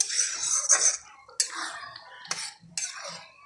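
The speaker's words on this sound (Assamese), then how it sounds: "ক্ৰীমটো দিয়াৰ পিছত আৰু অকণমান লৰাই ল'ব" Amul cream being stirred into a pan for a vegetarian dish, heard as several separate scraping strokes of a spoon against the pan, fairly close, with short pauses between them.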